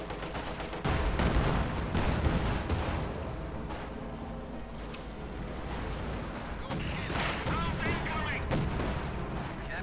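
Gunfire and artillery blasts in a 1v1 Company of Heroes 2 match, dense bursts of shots and booms layered with in-game battle noise and unit voice lines.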